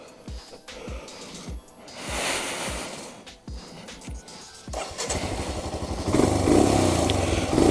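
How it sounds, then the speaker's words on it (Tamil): A Royal Enfield Himalayan BS6 2020 adventure motorcycle is started, its engine catching after a few brief cranking bursts, then settling into a loud, steady close-up idle with a sporty exhaust note. "இன்ஜின் ஸ்டார்ட் பண்ணலாம்."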